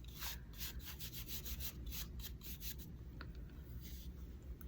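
Wax being rubbed by hand onto a 2x4 wood craft piece, a steady soft scrubbing friction with repeated strokes, close and fairly quiet, with no talking.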